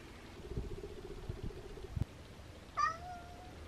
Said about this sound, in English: that little meowing mister is annoying the hell out of me right now